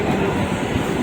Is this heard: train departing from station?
yes